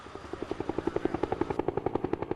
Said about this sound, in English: Multi-agency helicopter flight operations employing U.S. Army, Air Force, and D.C. National Guard assets were also an integral part of the 2006 exercise.